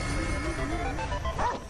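A dog barks and yips in Super Smash Bros Ultimate, loud and continuous over dense game music and effects.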